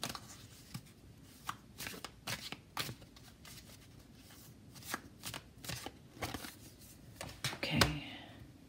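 Tarot cards shuffled by hand in a quiet room, a run of soft, rapid riffling taps and flicks, faint and close, with no talking.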